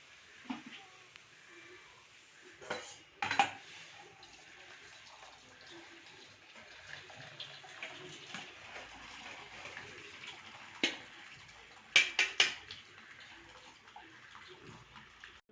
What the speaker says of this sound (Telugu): తీసేసి మళ్ళీ కోల్డ్ వాటర్ తోటి డ్రైన్ చేసేస్తాను